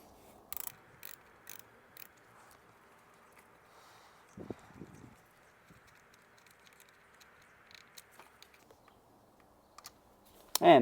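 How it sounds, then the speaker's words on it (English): A small ratchet gives a few faint, sparse clicks while loosening a spark plug coil pack on a BMW X3/X4 B58 engine, with a soft scrape near the end in an otherwise quiet space. "So the first thing we want to do is loosen the coil pack."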